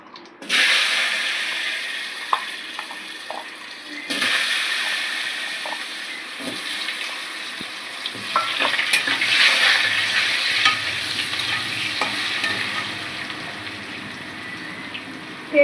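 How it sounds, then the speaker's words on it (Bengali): Cut potatoes frying in hot oil with whole cumin seeds, a steady close sizzle and bubbling that runs throughout, with occasional spoon scrapes and stirring clinks and no talking. "এবার কেটে রাখা আলুগুলো এই তেলে ভেজে নেব।"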